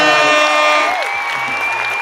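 An audience breaks into applause and scattered cheers, a loud burst of clapping that thins slightly toward the end while a few voices carry over it.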